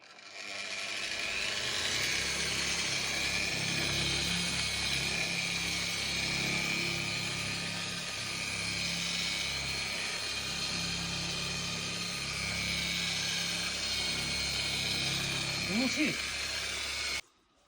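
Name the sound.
polishing machine buffing car headlight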